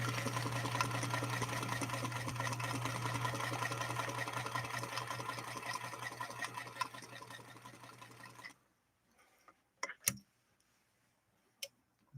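Singer Featherweight 221 Centennial sewing machine stitching steadily with a fast, even mechanical hum and ticking for about eight seconds, then stopping abruptly, followed by near silence broken by a couple of sharp clicks.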